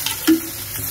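Hot water poured into a sizzling pan of cauliflower for a catla fish curry gives a brief, close, hissing rush.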